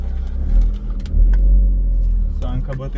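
A Toyota GR Corolla drives with a deep, close engine rumble and brief revving, while people talk inside the car over the engine noise.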